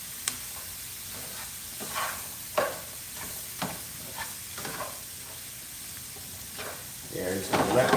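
Onions sizzle in a pan with a steady frying hiss, punctuated by stirring scrapes and utensil taps, with a voice talking faintly in the background.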